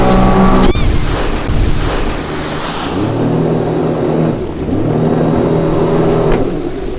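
A Sea-Doo jet ski on open water brakes and then accelerates in reverse, the engine dropping from a loud whine to a churning rumble that surges and eases in waves amid splashing water and wind.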